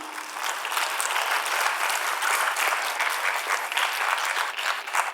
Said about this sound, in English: Clap, yeah.